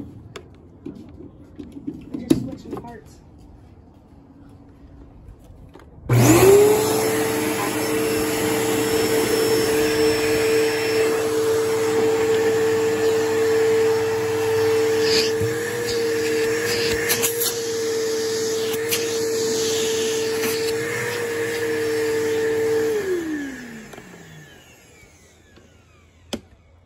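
A Bissell vacuum cleaner switches on with a sharp start and runs with a steady, loud whine for about seventeen seconds, then winds down, with only faint handling noises before it starts.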